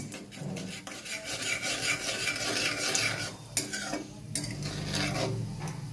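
A spoon scrapes and rasps through raw mango pickle with a little turmeric in a pan, in a steady, close stirring rhythm broken by two sharp knocks against the pan near the end, and no talking.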